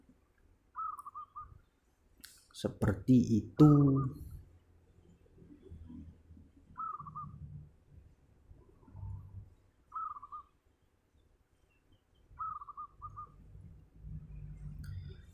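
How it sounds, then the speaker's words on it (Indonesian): A farm-bred local zebra dove (perkutut) gives short repeated coos at spaced intervals, fairly faint, with someone speaking briefly in the middle and soft handling noise around it. "Dan ini contohnya burung perkutut lokal ternak."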